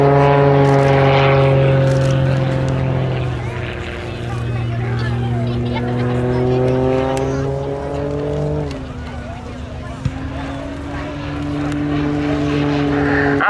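A heavily modified Muscle Pitts biplane performing aerobatics at an RAF airshow, its propeller engine roaring loudly and continuously with strong harmonic drone, pitch shifting as it rolls and pulls through manoeuvres, while a commentator talks over it.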